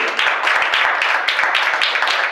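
A church congregation applauding, steady dense clapping from many hands filling the room at close range, with no voices standing out.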